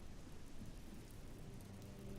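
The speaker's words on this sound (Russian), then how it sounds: "Так это слабый дождь." Light rain falls in the video game ELEX, a steady, dense hiss of drops with a low rumbling undertone that stays constant and fairly quiet throughout, with no voices present.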